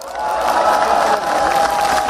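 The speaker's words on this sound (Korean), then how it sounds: "여러분 박수 한번 보내주세요" Crowd cheering and applauding at an outdoor presidential campaign rally in Bupyeong, Incheon, a dense, loud wash of voices and clapping with a sustained tonal note running through it.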